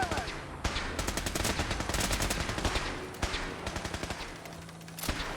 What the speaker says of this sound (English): What are you shooting at, guys?